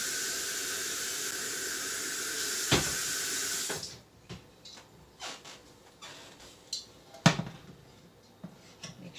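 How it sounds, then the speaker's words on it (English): Tap water runs steadily into a pot for a few seconds while pokeberry cotton yarn dye is being set up, then stops, leaving faint clinks and small knocks of handling. "now I'm going to fill up my second pot with some water"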